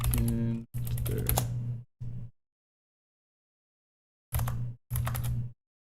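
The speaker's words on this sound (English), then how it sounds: "Yes, typing." Someone types on a computer keyboard while coding, producing bursts of quick clicking keystrokes separated by pauses, close and fairly quiet.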